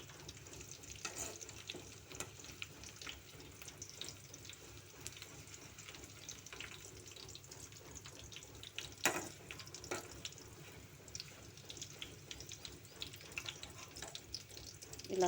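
Oil heating in a pan for homemade hair oil gives off a soft, steady sizzle and crackle at low volume. Light stirring or clinking noises can be heard occasionally over it.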